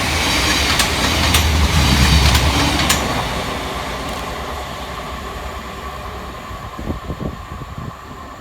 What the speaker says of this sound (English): passing through very quickly is 700 116, working 1940 for Thameslink from Brighton through to Bedford